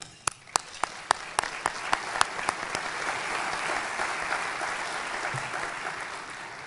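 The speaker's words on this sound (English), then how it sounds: "Let's applaud Bob and his amazing career." A burst of applause from a crowd at a waste industry conference awards breakfast, sharp individual claps at first that blend into a sustained, dense clapping that carries on steadily.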